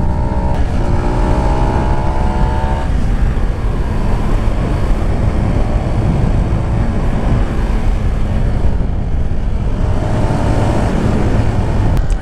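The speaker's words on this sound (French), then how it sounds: "J'ai une petite moto nerveuse" A Zontes 310 R1 motorcycle engine revs high and hard, a loud continuous roar with rising and falling tonal whine, close and steady throughout with no talk.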